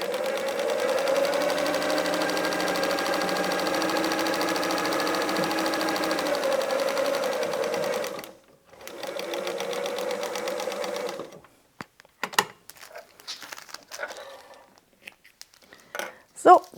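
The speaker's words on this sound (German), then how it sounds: "wir nähen einmal diese erste Seite" A sewing machine runs a steady, fast stitch along the seam of a paper-pieced patchwork quilt block, close and loud. It pauses briefly and then resumes, and ends in a few clicks and handling noises.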